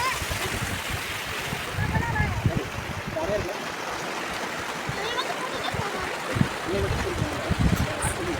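Water pours down the stepped face of Orathapalayam dam in a loud, continuous rushing wash, with splashing bursts and a voice talking over it.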